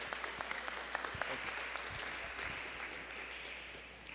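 A graduation crowd at a charter school gives a round of applause, with scattered crisp claps building into a steady patter that fades slightly toward the end, heard from some distance.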